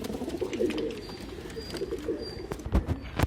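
Pigeons coo in low, throaty, rolling calls close by, repeating continuously alongside a few soft clicks and rustles, with no talking.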